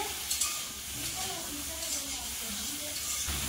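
Eggplant and ginger fry in a pan with a steady, bright sizzle and occasional stirring scrapes, while a voice speaks faintly underneath.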